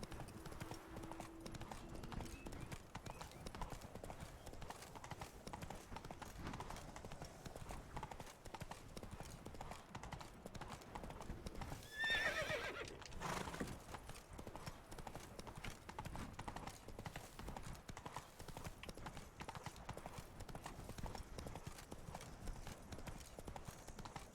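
Roach, Geralt's horse in The Witcher 3, trots along with steady, continuous clip-clop hoofbeats for the whole stretch, faint and even, with a brief snort or whinny-like swell midway.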